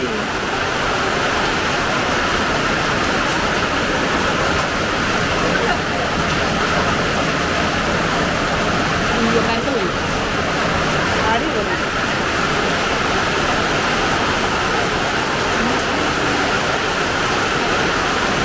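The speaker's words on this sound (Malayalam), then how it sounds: "നല്ല മഴ." Heavy rain pours down around a home with a newly built kitchen, a loud, dense and unbroken hiss that holds steady from start to finish and fills the scene close by.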